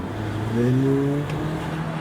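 A Mercedes engine idles steadily just after a downpipe installation, with a constant low hum and a faint rising harmonic whine, running alone at close range.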